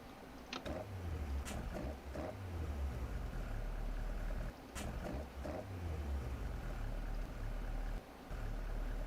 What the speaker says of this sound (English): You could possibly use this sound as the exterior idle.